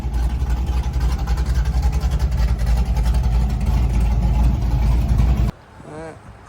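A car engine with open exhaust cutouts rumbles loud and close with a throbbing, pulsing drone, then cuts off abruptly near the end.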